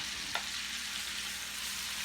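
Peppers and onions sizzling in a pan for Italian sausage and peppers, a soft, steady frying hiss with one brief clink of a utensil near the start.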